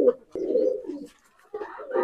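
A female Nildumma pigeon coos in two low, rolling bursts separated by a short pause, close and moderately loud, with no talk over it.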